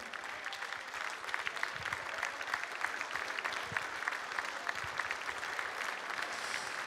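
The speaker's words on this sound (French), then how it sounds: "je vous demande d'applaudir le jury amené ce soir et dirigé par monsieur Daniel Gélinas" An audience at the Nice Opera applauds the jury at a song finale of the Francophonie Games, a steady, fairly distant clatter of many hands sustained for several seconds.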